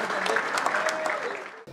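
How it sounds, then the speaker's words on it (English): Crowd applause at a Croke Park event for a Medal of the Match award winner, a dense burst of clapping that cuts off abruptly at the end. "Matthew Farrell, give him a huge big round of applause"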